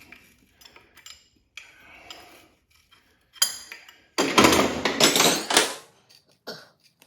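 Big metric wrenches clink and clatter against metal while an oil line is removed from a 1985 Honda XL600R motorcycle, scattered light ticks building to a loud burst of rattling metal contact, then brief clinks.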